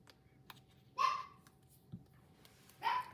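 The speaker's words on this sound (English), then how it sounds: "That was my dog." Pet dog barking indoors during a card-making session, two short, moderately close barks about two seconds apart, then quiet room tone.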